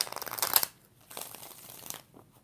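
A deck of tarot cards is shuffled by hand in quiet surroundings. Two short bursts of close, crisp riffling and crinkling are separated by a brief silence, with a fainter rustle trailing off at the end.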